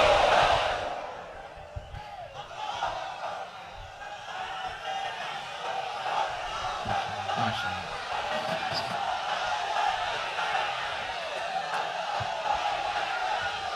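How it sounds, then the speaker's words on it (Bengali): A large crowd at a Bengali Islamic sermon gathering chants the takbir, 'Allahu Akbar', a loud, sustained mass of voices that swells and holds for the whole stretch. "তাকবীর পড়ুন, লিল্লাহে তাকবীর।"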